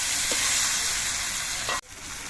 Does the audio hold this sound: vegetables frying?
yes